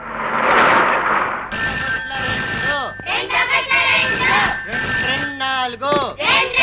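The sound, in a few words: telephone ringing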